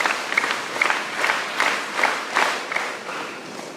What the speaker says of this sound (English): Let us give him 7 claps